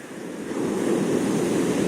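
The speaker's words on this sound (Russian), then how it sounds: "Так вот волны накатывает" Stormy Black Sea surf rolls onto the shore at Yalta on an overcast autumn morning, a steady roar of breaking waves with wind noise that swells louder after the first half-second and stays dense, with no voices.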